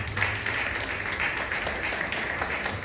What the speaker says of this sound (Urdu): زوردار تالیاں بجاتے ہیں ماؤں کو.